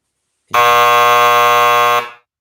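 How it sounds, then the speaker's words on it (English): A loud, harsh electronic buzzer sounds once as time runs out, a single sustained blare lasting about a second and a half that then cuts off. "That's time running out for them. That was their buzzer."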